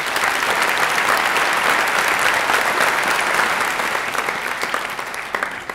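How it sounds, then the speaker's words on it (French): Steady, dense applause from a large audience at a 2017 New Year's greetings ceremony in Rognac, honoring volunteers, sustained at full strength before thinning slightly toward the end. "on peut les applaudir encore une fois,"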